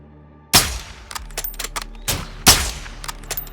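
A sharp, loud sniper gunshot from Call of Duty: Modern Warfare 2 rings out, followed by scattered lighter clicks and a second heavy shot about two seconds later, with no talking.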